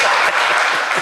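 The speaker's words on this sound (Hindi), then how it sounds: "ताली बजाओ सब उनके लिए" Audience clapping at a religious gathering, dense and steady throughout a short burst, fairly loud with a faint voice underneath.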